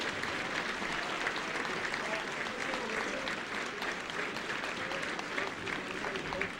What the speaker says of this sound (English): Ladies and gentlemen, how about a big round of applause for all of these young men?